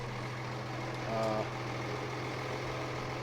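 A tractor idles steadily with a 3-furrow, 14-inch moldboard plow hitched during fall ploughing in Nova Scotia, giving a continuous low, even engine hum close by that swells briefly near the middle.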